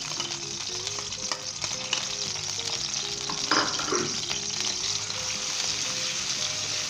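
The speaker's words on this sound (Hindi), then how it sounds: "अदरक लहसुन के पेस्ट को फ्राई कर ले 1 से 2 मिनट तक" Ginger garlic paste sizzles steadily in hot vegetable oil in a cast iron karahi, a continuous loud frying hiss with occasional stirring scrapes, and no voices.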